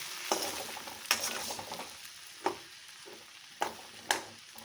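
Small salted fish pieces fry in a pan with a soft, quiet sizzle, punctuated by several sharp utensil scrapes and clinks at irregular intervals.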